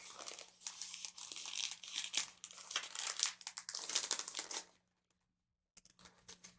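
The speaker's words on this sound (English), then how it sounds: "I wonder if I can peel this sticker back" Crinkly picking and peeling at a sticker on a paper-wrapped unboxing package, a close, busy run of rustles and small tearing crackles that stops, leaving near silence, then resumes briefly.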